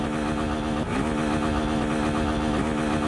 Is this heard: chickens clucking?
no